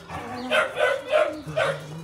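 Dachshunds bark four times in quick succession, close and loud, with short yips between the barks.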